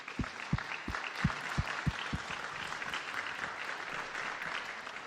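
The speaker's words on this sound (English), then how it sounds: "Can you give a round of applause to yourself?" Applause from a crowd of children and families at the opening ceremony of a national finals competition, moderately faint and steady, with a few sharper claps standing out near the start.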